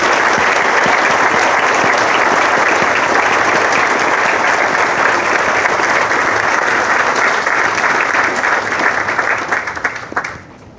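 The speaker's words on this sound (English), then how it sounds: "how about another round of applause?" Sustained, loud applause from a crowd at an outdoor statue dedication ceremony at Pearl Harbor, Hawaii, holding steady for about ten seconds before tapering off at the end.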